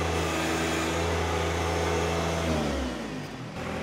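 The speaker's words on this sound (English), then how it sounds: "And you hear the tractor going into relief." A John Deere 1025R tractor engine running steadily, then lugging down in pitch as the hydraulics go into relief with nothing hooked to the third function valve, loud and close.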